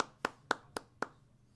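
Four crisp hand claps land at an even, quick pace from a small group, fairly faint, then fade into quiet room tone during a sports talk show.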